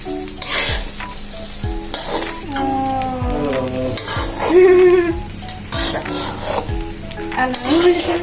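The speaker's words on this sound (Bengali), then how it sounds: "তাই আমাদের কিছুক্ষণ পরপর এসে এটা নেড়ে দিতে হবে।" Food cooks in a pot with loud frying and sizzling beneath repeated stirring strokes and scrapes of a utensil, close and busy throughout.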